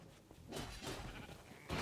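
A sheep in the video game Minecraft Dungeons bleats a few times in short wavering calls, moderately close, with some soft background noise between them.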